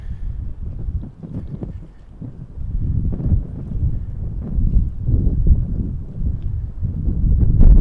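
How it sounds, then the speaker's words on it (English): Steady wind buffets an outdoor microphone at Montréal-Trudeau International Airport, a loud, continuous low rumble with gusty surges that swell toward the end, with no voices. "It's gonna be windy."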